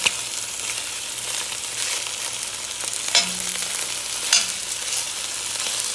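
Wild doves browning in a hot frying pan give a steady, bright sizzle, with a couple of sharp crackling pops and a soft scrape near the middle.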